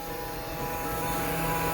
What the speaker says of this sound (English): It's the CD drive spinning.